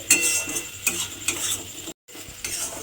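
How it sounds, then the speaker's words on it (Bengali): Okra paste fries in oil over low heat with oily sizzling and repeated scraping and stirring strokes of a spoon against a pan, close up, pausing briefly near the end. "দিয়ে ভালোভাবে মিশিয়ে আবারও কিন্তু এইভাবে তেলের মধ্যে ভেজে নিতে হবে।"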